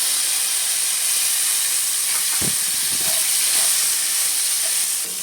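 Tomato added to hot oil with mustard seeds in a pan sizzles with a loud, steady hiss throughout, with a few faint low knocks near the middle and no talk.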